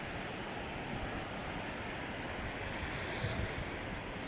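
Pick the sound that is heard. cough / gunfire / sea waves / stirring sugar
sea waves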